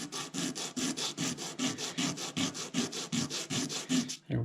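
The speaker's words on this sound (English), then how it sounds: "you can take a piece of sandpaper, flat sandpaper, and smooth this out some so it doesn't have any" Flat sandpaper rubbed back and forth across a metal washer from a Zebco 33 reel repair, an even run of about fifteen close, raspy strokes in a steady rhythm.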